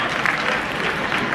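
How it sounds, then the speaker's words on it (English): Loud, dense applause from a business keynote audience, a steady roar of many hands clapping at once with no speech on top. "Round of applause for these people."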